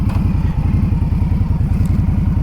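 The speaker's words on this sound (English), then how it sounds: "Today we're gonna go on a beautiful ride on my Indian Scout Bobber" An Indian Scout Bobber motorcycle engine runs steadily and close, its low rhythmic throb and exhaust pulse holding even throughout with slight mechanical clatter on top.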